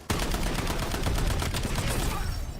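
Dense, continuous rapid-fire assault rifle bursts in a first-person shooter game, loud and close, sustained for the whole stretch with no pauses.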